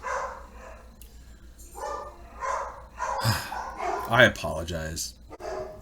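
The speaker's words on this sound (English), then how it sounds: "Listen to my angry dogs. They really do not like the bug spray guy." A few angry dogs bark in short, uneven bursts at a bug spray man, close and fairly loud, mixed in with someone talking over them.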